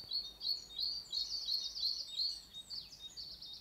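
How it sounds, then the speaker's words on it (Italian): Small birds sing in a cartoon woodland, a steady run of bright, high chirps and twittering trills repeating through the whole stretch, fairly clear over a quiet background. "ascolta il canto degli uccellini"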